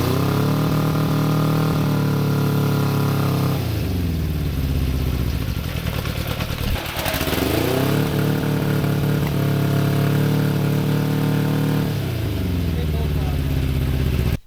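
The warm engine of a home-built vehicle runs loud and close, a steady chugging idle that rises and falls in pitch with a couple of revs, with someone talking over it.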